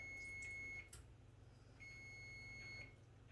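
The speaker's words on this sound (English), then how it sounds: "that's my oven beeping" An oven timer beeps in a home kitchen: two faint, high electronic tones, each held for close to a second, over quiet room noise.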